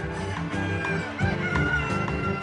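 Many chickens of assorted breeds cluck and crow together at a poultry show, a dense, continuous chorus of overlapping calls with no single bird standing out.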